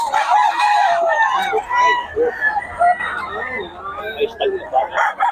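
A young stag rooster at a Philippine backyard poultry sale, a close crowing call with clucking fowl nearby, mixed with people talking.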